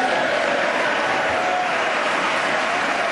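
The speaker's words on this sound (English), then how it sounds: "it's a good thing there was more applause after that" Steady applause from an audience at a televised presidential address, dense and even clapping that fills the whole stretch at a moderate distance with no pauses.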